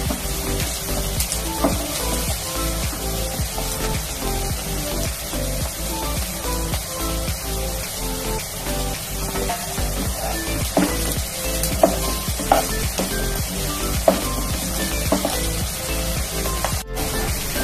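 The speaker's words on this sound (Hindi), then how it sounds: "प्याज को और ये लहसुन अदरक को हल्का ब्राउन करना है।" Onion, garlic and ginger fry steadily in a pan until lightly browned, a continuous close sizzle with scattered crackles and occasional stirring knocks throughout.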